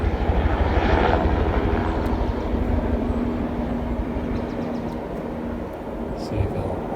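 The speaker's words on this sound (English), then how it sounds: "there's a helicopter over there flying behind the trees" A low, steady engine rumble drones continuously, like an aircraft passing at a distance, with faint outdoor background noise.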